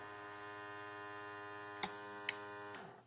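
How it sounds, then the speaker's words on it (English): Vacuum sealer pumping air out of a bag in a kitchen, a steady electric motor hum held throughout with a couple of faint clicks, then winding down as it stops. "you press vacuum seal. Do you see that? It just sucks it."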